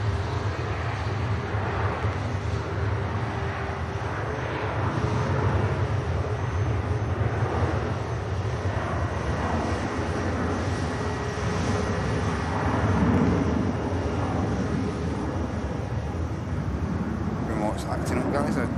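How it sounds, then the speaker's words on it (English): A KLM airliner taxis at Manchester Airport, its engines giving a steady, loud, broad roar that swells slightly as it passes, while a voice talks over it. "KLM about to taxi past us."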